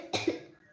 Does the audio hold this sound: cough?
yes